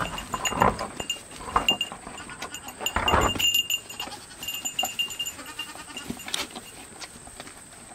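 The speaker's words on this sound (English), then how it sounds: "So we're going to see if our goats, who literally won't eat anything, like corn." Goats eating corn on a farm, with close munching and rustling, light clinking, and short bleats scattered through the scene.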